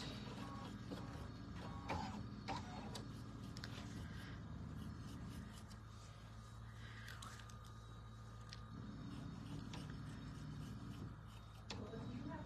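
A sewing machine stitches a quilt design on leather, its low mechanical whir running steadily at moderate volume with soft clicks and rubbing sounds, while a voice speaks quietly over it.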